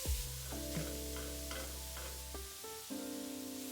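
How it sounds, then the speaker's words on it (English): A pulsed mushroom, onion and garlic mixture sizzles steadily in a hot skillet, a close, continuous frying hiss with a few stirring scrapes. "Now that we finished pulsing the mushrooms, onions, and garlic, we're gonna add it to a hot skillet."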